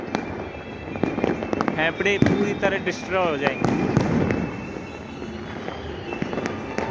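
Firecrackers set off during Diwali crackle and pop in bursts over a steady noisy background, with a voice talking over them throughout.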